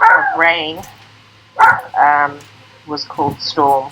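Dogs bark in short bursts, a few sharp yips and barks close by, interrupted by a person talking between them.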